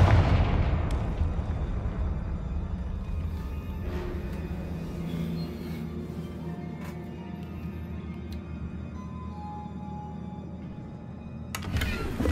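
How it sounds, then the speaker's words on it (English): Fire spell blasts in the Hogwarts Legacy video game: a loud booming explosion opens, its rumble decaying over several seconds with a low sustained roar, then a second sharp burst near the end. "Confringo!"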